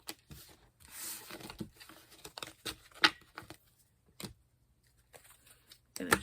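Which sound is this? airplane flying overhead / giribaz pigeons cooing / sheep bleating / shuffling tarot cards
shuffling tarot cards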